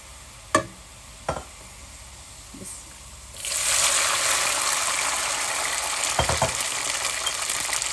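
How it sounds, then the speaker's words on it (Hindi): Water is poured onto browned onions in a hot cooking pot. After a few clanks and taps, a loud, steady sizzling hiss starts and keeps going, with more knocks from stirring. "अब हम इसमें पानी डालते हैं।"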